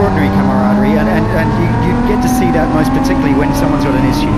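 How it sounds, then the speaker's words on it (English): A BMW race car engine at Taupō circuit drones loudly and steadily with a rising pitch, while someone talks over it throughout. "that car sounds amazing"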